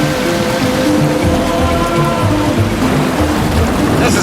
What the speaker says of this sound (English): This is some of the heaviest rain I've ever ridden in.